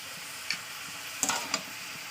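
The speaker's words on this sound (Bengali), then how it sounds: "ভালো করে তেলের সঙ্গে মিশিয়ে দিতে হবে চলো এবার আমি আদা দিয়ে দেবো" Ginger paste sizzles softly in hot oil in a pan, with a quiet steady fry and a few light clicks and taps of a spoon against the metal.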